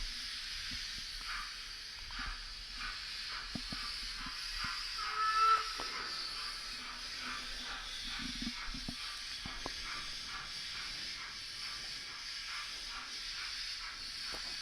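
A Fleischmann DB Class 044 model steam locomotive, item 714479, pulling a goods train, gives a soft hissing chuff in an even rhythm, faint and steady throughout with a few light clicks.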